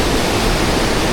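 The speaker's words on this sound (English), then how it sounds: "Check this waterfall out." A waterfall in Morocco's Atlas Mountains roars as a steady, loud, broadband rush of falling water, close by and constant, with no voices over it.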